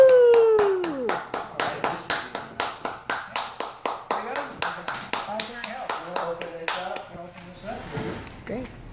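A small street-show crowd claps in a steady, fairly quick rhythm for a magician named Chase, the claps sharp and close, with a voice whooping over the start and chatter as the clapping thins out.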